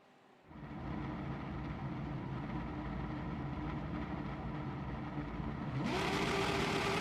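Pack of race cars roaring off the line at the start of a two-hour race at the Green Hell, a dense, steady engine drone that swells sharply louder near the end as cars rev and pass close.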